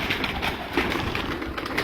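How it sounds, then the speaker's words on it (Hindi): Pigeons held by pigeon fanciers give soft, steady cooing at close range, a continuous murmuring layer with no talk over it. "तो ये अब हम आपको दिखाएंगे कबूतर"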